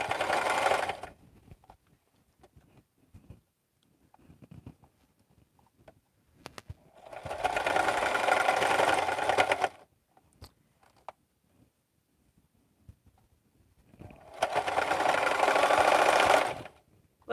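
A sewing machine stitches cross-body bag handles in two long, steady runs of motor whir and needle chatter, separated by quiet pauses with faint handling clicks.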